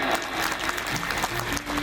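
Applause from an audience at a religious katha gathering, steady and dense throughout the short span, fairly loud and close, with no voice over it.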